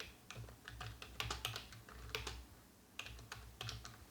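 Quiet typing on a computer keyboard while JavaScript code is written, with irregular bursts of soft key clicks separated by short pauses, close and faint, with no voices.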